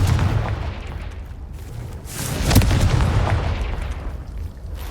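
A Confringo fire spell exploding in Hogwarts Legacy, a booming blast with a sharp burst in the middle over a rumbling, crackling background, loud and close, without speech.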